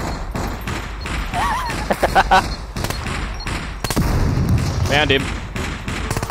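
Rapid gunfire rattles in repeated bursts during a SCUM survival game fight, loud and close, while players talk excitedly over and between the shots.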